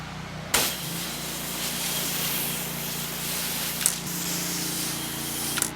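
A pressure washer on a fan spray cleans concrete continuously, a loud, steady hiss that holds at one level from start to finish, with a few brief clicks along the way.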